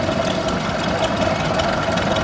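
Vintage 1921 International Harvester Junior 816 tractor engine idling steadily at a rally, a continuous close mechanical drone with a faint knocking texture throughout.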